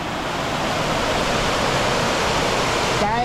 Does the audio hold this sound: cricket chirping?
no